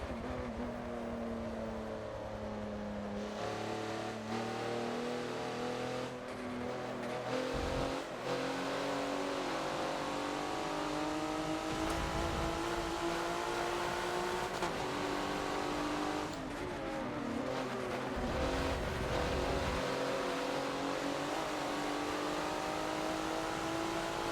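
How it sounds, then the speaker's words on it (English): Several race cars in the Forza racing game lap the Lime Rock circuit as a pack, their engines droning steadily with overlapping revving tones that rise and fall as they accelerate and pass, close and loud throughout. "that is a gaggle of cars"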